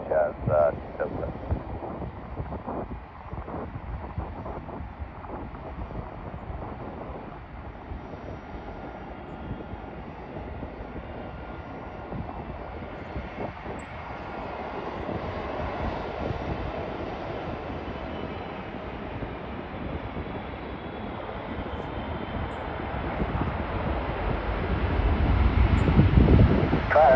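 A Turkish Airlines Boeing 777-3F2 (ER) arrives on runway 08L at Vancouver, its low engine rumble growing gradually louder toward the end amid wind noise, with radio voices heard over it.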